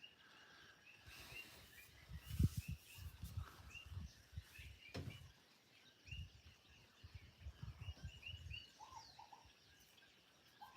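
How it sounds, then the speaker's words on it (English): Coqui frogs calling at night in Hawaii, a chorus of sharp repeated chirps at middle distance running steadily throughout, mixed with low rumbling and handling noise. "the coqui frogs are pretty loud, and they are actually louder for you than for me"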